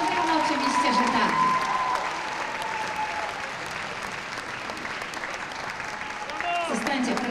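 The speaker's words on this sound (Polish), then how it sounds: "Gorąco brawa, oczywiście, że tak." Steady audience applause fills the room at a Polish dance championship, with a voice speaking in Polish over the clapping as it gradually thins out.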